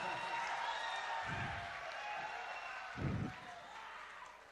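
An audience at a college function, Microtek College Udbhav 2015, claps together in a steady, dense wash of applause that holds for several seconds with a brief swell near the end.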